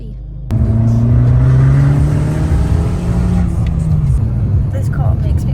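A car being driven and revved, its steady engine drone rising in pitch and holding loud and close throughout, with a rising engine tone that sustains and then dips slightly near the end.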